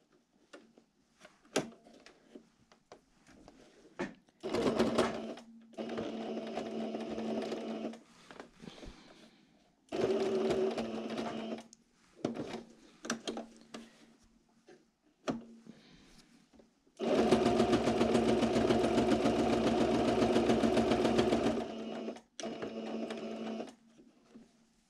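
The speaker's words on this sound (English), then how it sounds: "and then I'll stitch it closed" Sewing machine stitching a fabric face mask with a nose piece closed, running in several steady bursts with short pauses, the longest near the end, close and clear with no talk.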